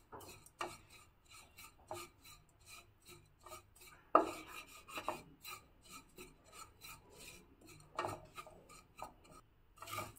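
Sesame seeds being roasted with sugar syrup in a pan on a gas stove, giving a steady dry rasping and scraping with rhythmic stirring strokes, close and fairly soft, with no talking.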